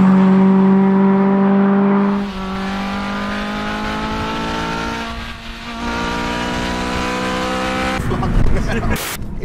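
A Honda Civic FD2 Type R with a K24 engine conversion revs up and drops through gear changes, its tone climbing and falling steadily, ending in a rougher burst of engine roar.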